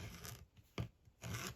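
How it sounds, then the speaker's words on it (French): Scissors cutting out a small area of a diamond painting sheet, giving two faint raspy snipping strokes separated by a brief sharp click, very quiet and close up. "Alors, je découpe ma petite zone."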